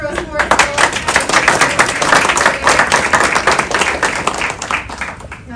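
Audience applause at a press conference on the Affordable Connectivity Program: dense, steady clapping from a crowd of many hands, fairly loud and close, holding evenly for several seconds with murmur underneath.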